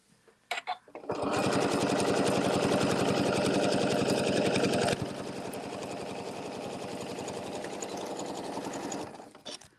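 A sewing machine runs steadily, stitching a quilted placemat in a quilt-as-you-go project. The stitching is loud and continuous and eases to a slightly lower pitch midway before it stops.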